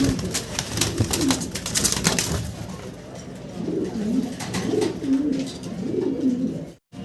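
Fancy exhibition pigeons in a loft cooing repeatedly, low rolling coos rising and falling close by, with faint chirps and rustling around them and no voices.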